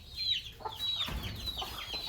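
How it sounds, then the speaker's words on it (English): A rooster and hens cluck in a budget chicken coop bedded with coffee husks, giving soft, close, overlapping clucks and murmurs. "That is our rooster, and we have a hen there"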